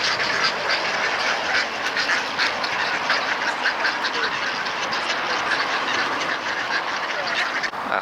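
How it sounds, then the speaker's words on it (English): Busy quacking from a group of ducks being fed at a pond in Emsworth, Hampshire, steady and continuous, with outdoor background noise throughout. "A very kind lady feeding the ducks."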